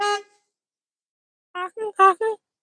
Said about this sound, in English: and you'll hear this, is the horn